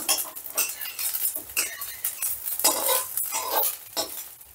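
An egg fried in oil in a pan is scraped and lifted out, with a soft sizzle under repeated metal clinks and scrapes of a utensil against the pan, close and fairly steady.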